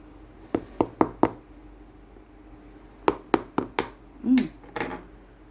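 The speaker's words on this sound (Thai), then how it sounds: "เดี๋ยวเรามาฟังเสียงเคาะดูนะคะ" Knocking on the shell of a premium Monthong durian, about three kilograms, with two quick groups of four sharp hollow raps each, followed by a low murmuring voice, close and alone in a quiet room.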